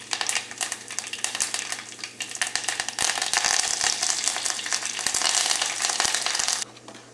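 Dried red chilies and curry leaves hit hot oil already popping with mustard seeds, for a Kerala ripe-mango kalan. The result is a steady, close, crackling sizzle that swells louder partway through and then cuts off abruptly near the end.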